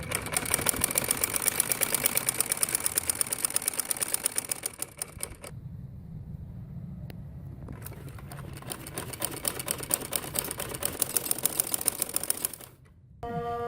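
A sewing machine stitches pieces of a Patiala salwar together in fast, even rattling bursts, pausing for a couple of seconds midway before running again, then stopping briefly near the end.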